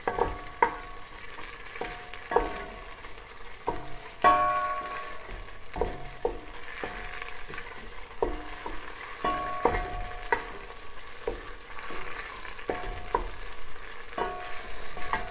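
Tomato paste cooking in a pan while a spoon stirs it, giving a soft continuous sizzle marked by regular scraping and tapping strokes across the pan, close and moderately quiet with no voices.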